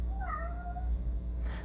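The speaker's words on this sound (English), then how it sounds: "That's my cat. Maybe you heard him meowing." A male house cat meows in a short, wavering cry of about a second, standing out clearly over a steady low indoor hum and followed by a brief soft rustle.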